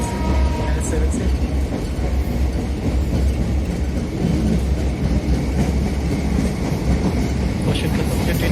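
A passenger train running on rails toward Bangalore Airport as it picks up speed: a loud, steady rumbling roar with rhythmic wheel clatter throughout, and a voice talking over the noise.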